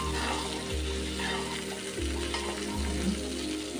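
Prawns sizzle and fry steadily in a hot pan, a close, continuous crackle with faint stirring and no talking.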